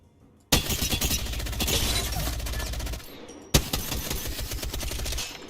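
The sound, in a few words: automatic gunfire from a video game gun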